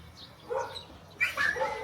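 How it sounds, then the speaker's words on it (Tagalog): A dog beside a house in the Philippine countryside gives two short, fairly quiet yips or barks about a second apart, against faint background noise. "May aso kasi kami dito sa gilid,"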